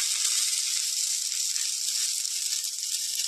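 Green peas hiss and sizzle steadily in a hot wok, a dense, continuous bright frying sound that holds close and even without pause.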